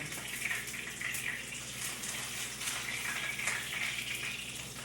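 Salmon frying in a pan, a steady broadband sizzle and crackle heard close up and fairly quiet, continuous throughout with no talking.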